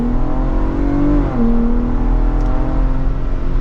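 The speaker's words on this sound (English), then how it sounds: "we are setting off in the Raptor in normal mode" A 2023 Ford Bronco Raptor SUV pulls away in normal mode, its engine droning steadily and climbing in pitch with a brief dip as it shifts, loud and close throughout with no talk.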